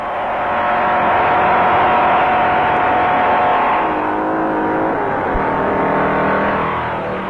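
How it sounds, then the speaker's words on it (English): A 1957 race car on the Daytona beach course accelerates hard, its engine roaring loud and steady with a rising pitch as the throttle stays floored. No voices cut through. "Owens goes all out, mashing the accelerator to the floorboard to to make up time."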